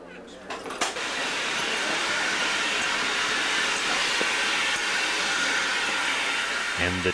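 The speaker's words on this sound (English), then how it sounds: "Let's get the signals ready for the arrival of another train from Pickering" A train on a British single-track line arriving from Pickering rolls in with a broad, steady rumble and hiss that swells early and then holds at a constant level, with a sharper clank near the end.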